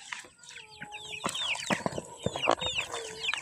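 Chickens cluck and chatter nearby in a farmyard, a busy overlapping series of short clucks and squawks at moderate loudness.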